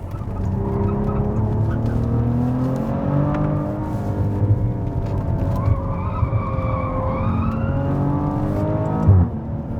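A Maserati Levante SUV accelerates through its gears, and its exhaust note rises in pitch in long sweeps, drops at each shift, then climbs again in a loud, sustained drone.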